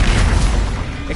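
Bombarda explosion spell in a Harry Potter video game, a short heavy booming blast with rumbling low end that fades over about a second.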